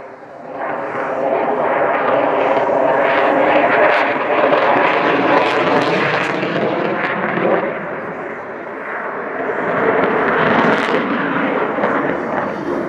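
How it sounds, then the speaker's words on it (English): Twin-engine Lockheed Martin F-22 Raptor stealth fighter jet flying, a loud sustained roar that swells and eases across the whole stretch, with a dip near the end before rising again. "planned to purchase 750 Lockheed Martin F-22 Raptors, the twin-engine, all-weather stealth tactical fighter aircraft."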